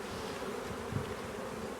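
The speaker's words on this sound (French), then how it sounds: "il y a des abeilles, bon pas des masses mais il y en a" Honeybees buzz inside an opened beehive as frames are being added, a dense, steady drone of many wings with no voices, close and moderately quiet.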